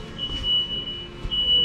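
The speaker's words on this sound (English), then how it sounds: "I don't know why is there beeping." A forklift backs around inside a museum, its reverse alarm giving short, repeated electronic beeps that pulse over a low hum of room noise, with no talking.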